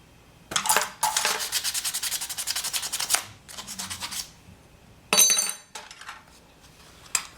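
AK magazine pieces being sanded by hand before epoxy: close, rapid rhythmic scraping strokes in several bursts, one long run and shorter ones after pauses, with no talking.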